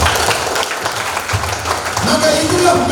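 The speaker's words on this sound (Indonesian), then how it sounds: "Tepuk tangan dulu Bapak." Loud applause from a crowd at a Merci sales training event fills the room, clapping that swells again as a voice begins speaking over it.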